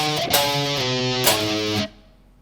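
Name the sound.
distorted electric guitar playing a bridge riff slowly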